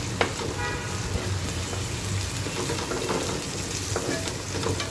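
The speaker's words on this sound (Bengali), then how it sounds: "একটু হালকা ভেজে নেব, ওটা পেঁয়াজ কুচিটা একটু হালকা ভেজে নেব" Chopped onion and green chili fry in a pan with a steady, dense sizzle that runs unbroken throughout, close and fairly loud, with no talking.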